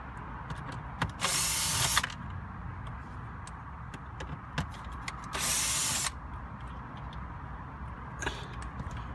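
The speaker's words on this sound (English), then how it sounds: "Then you have two screws here that you have to remove." Screws being removed from an interior panel of a Fiat 500X, with two short whirring bursts of a power driver separated by quiet clicks and handling noises, close and fairly faint.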